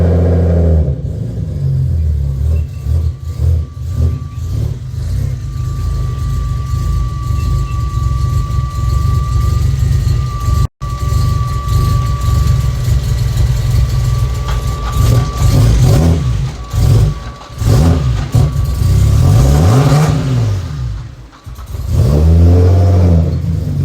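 A broken Nissan 370Z engine runs loudly and steadily with a rough, droning tone, revving up and down repeatedly in a close, continuous recording with no one speaking.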